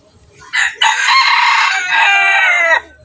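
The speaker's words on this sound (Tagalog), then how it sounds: "maganda rin ito kasi masipag ito tumilaok" Rooster crowing loudly and close by: one full, sustained crow lasting about two seconds, clear and alone without talking.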